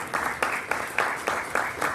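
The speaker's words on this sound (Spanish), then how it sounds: "Un fuerte aplauso para ellos, por favor." Scattered applause from a conference audience for panelists at an international academic conference, a thin, light clapping with a few distinct claps standing out at a loose, uneven rhythm, fairly soft, with no speech over it.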